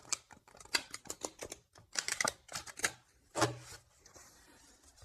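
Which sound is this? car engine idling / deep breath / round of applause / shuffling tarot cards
shuffling tarot cards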